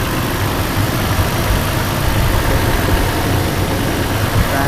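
A Toyota 4Runner engine idles steadily and loudly right after a TRD cold air intake install, a constant close rumble with no talking.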